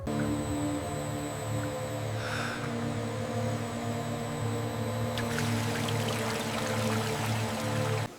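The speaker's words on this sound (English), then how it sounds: "the closed dosing system introduces the dye, ensuring an even transition to the deep charcoal gray tone" A closed dosing system feeds dye into a circulating dyeing machine at a sheep wool sock factory, giving a steady, loud pump hum with flowing liquid throughout and a brighter rush of flow partway through.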